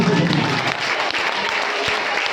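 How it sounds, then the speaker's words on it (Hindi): Church congregation clapping loudly at a Hindi worship service, with steady, dense applause throughout and a voice briefly audible underneath at the start. "आइए जोरदार ताली बजाएंगे"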